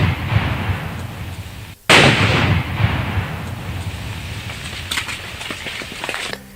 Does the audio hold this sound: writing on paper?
no